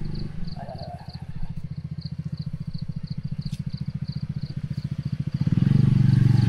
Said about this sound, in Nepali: बाटोमा स्कुटर हाम्रो असिन दादाले छिराउँदै हुनुहुन्छ